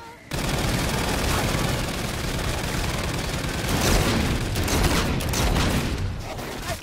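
Turret gunfire in Call of Duty: Infinite Warfare's zombies mode, a dense, continuous barrage of rapid shots that stays loud and steady throughout, swelling slightly toward the end.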